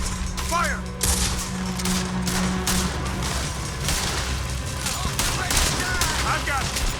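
Repeated gunfire in a Red Dead Redemption 2 shootout, bursts and shots rattling throughout at close range, with a low steady hum and shouting voices over the fighting.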